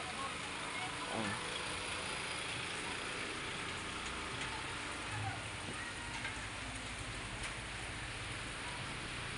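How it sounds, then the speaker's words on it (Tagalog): Steady rain falls throughout in a place where it has rained since the day before, a continuous broadband hiss with a faint low engine-like hum beneath and people talking over it. "Kahapon pa umuulan dito."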